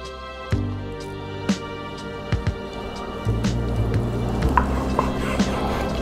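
A knife cuts into a smoked Mediterranean chicken fatty on a board, with a few sharp knocks and soft scraping, close and moderately quiet, with light crackle beneath.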